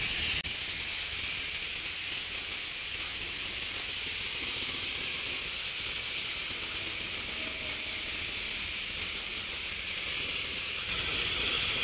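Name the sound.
car wash rinse spray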